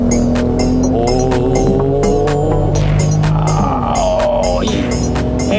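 A Genesis GV70 3.5T twin-turbo SUV accelerates hard with its active engine sound, a loud, throbbing engine note whose tone climbs and steps through gear changes, heard from inside the cabin without speech.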